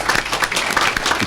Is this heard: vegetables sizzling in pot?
no